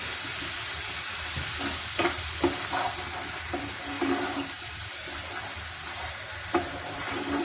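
Vegetables and spices for matar nimona fry in oil in a pan, a steady sizzle broken by the scrape and clatter of stirring, close and fairly loud.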